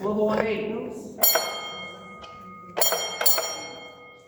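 A mine signal bell rings once, then twice, each strike a bright metallic ding with a lingering ring, heard near and clear over low background hum and faint talk.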